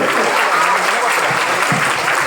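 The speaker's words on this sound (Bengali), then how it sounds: "স্যারের জন্য খুব জোরে হাততালি করেছে" A school audience claps loudly for a teacher at an annual program quiz, a dense, steady burst of applause from a close crowd.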